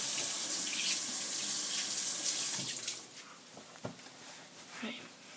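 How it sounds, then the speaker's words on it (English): Kitchen tap running into a sink for hand washing, a loud steady gush of water that cuts off partway, followed by quieter splashes and handling sounds. "Oops, let me wash my hands."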